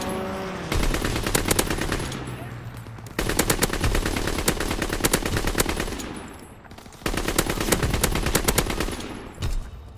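Rapid strafing machine-gun fire from an air attack in Call of Duty WWII comes in three long, loud bursts with short breaks between, dense and continuous with no talk.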